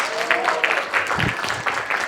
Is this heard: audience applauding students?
yes